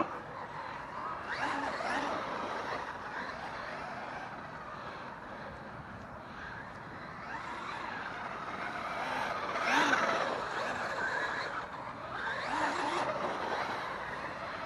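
A Traxxas Maxx RC car drives around. Its electric motor whines and surges steadily, rising and falling as it passes at a moderate distance, with no talk.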